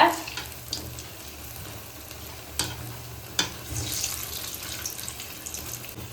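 Urad dal vada frying in hot oil, a steady low bubbling sizzle with a few sharp pops and spatters rising over it.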